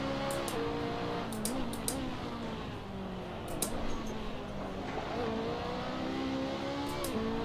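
A race car engine in Assetto Corsa revs up and down through repeated gear changes, with a steady, close engine note and short crisp clicks from the game.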